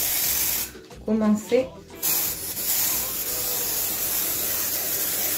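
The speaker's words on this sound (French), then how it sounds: "Alors ma bombe de flocage c'est celle-ci, bronze." A can of bronze flocking spray hisses steadily onto a chocolate Christmas log cake, a loud close continuous spray that runs almost throughout, briefly broken while someone speaks.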